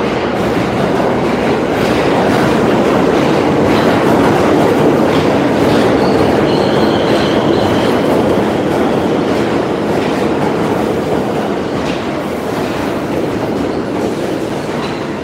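A train rumbles steadily through a station with continuous loud rail noise and faint brief wheel squeals, heard alone without talking.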